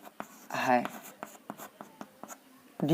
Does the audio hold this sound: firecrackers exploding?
no